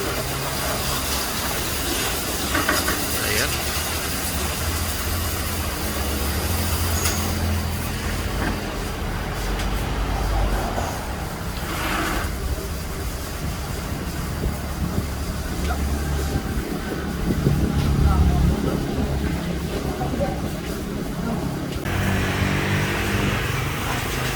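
Water spray washing down a Suzuki Skydrive motorcycle, a steady broadband hiss that keeps on throughout with shifting intensity and some background noise.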